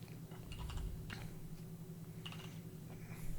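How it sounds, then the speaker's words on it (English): Computer keyboard keystrokes in short irregular clusters, fairly faint and close, with brief pauses between bursts of typing and no voices. "I hear keystrokes."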